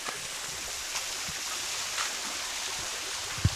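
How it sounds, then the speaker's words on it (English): Steady, gentle rush of a small rainforest waterfall with low flow fills the whole stretch, a soft continuous wash with a couple of faint knocks near the end. "we've made it to the falls. It's not really flowing that hard"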